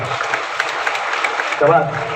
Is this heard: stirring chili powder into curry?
no